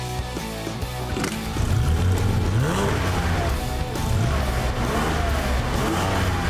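Porsche 911 GT3 of the 997 Gen 1 generation, its engine revving and rising in pitch close by, with a steady, loud drone throughout and climbing sweeps as the throttle opens.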